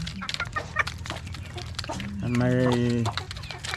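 Hens on a farm cluck in short bursts, with a longer drawn-out cackle near the end, while someone talks over them close by.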